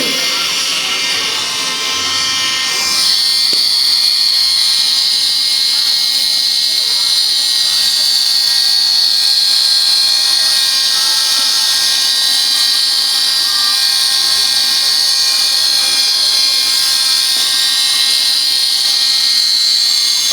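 A hovering military helicopter at a temple display, where soldiers rappel down, produces a loud, sustained high-pitched turbine whine with a constant steady roar that swells after a few seconds and stays close and dominant throughout.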